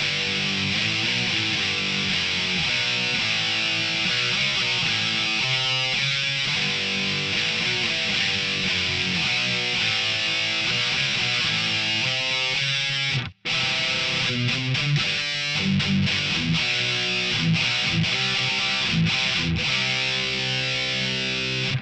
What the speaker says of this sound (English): I really love how beefy this guitar tone sounds.